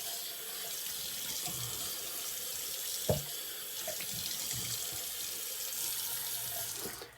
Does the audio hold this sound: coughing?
no